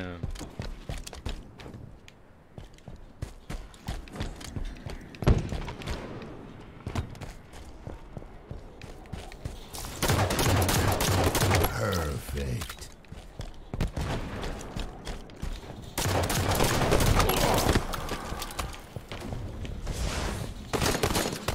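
Rocket launcher fire in the Xbox One shooter Halo 5 amid a busy firefight: loud, whooshing blasts in two longer bursts over a backdrop of scattered gunfire and footsteps.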